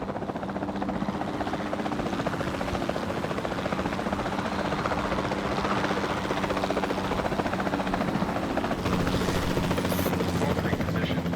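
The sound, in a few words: capture team helicopter from the video game Jurassic World 2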